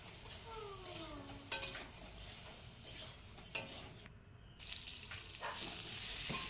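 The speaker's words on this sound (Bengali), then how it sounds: "নুন আর হলুদ দিয়ে পটলটাকে আমি ভেজে নিচ্ছি।" Pointed gourd pieces frying in a pan with salt and turmeric give a steady oil sizzle, broken by a few short utensil clinks and stirring knocks, with no voices.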